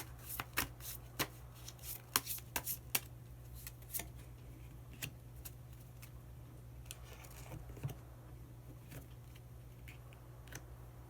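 Tarot cards are shuffled and drawn in a run of quick, crisp riffling snaps and flicks, close and clear at first, then thinning to scattered card taps against a low steady hum.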